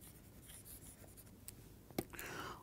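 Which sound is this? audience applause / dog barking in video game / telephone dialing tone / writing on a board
writing on a board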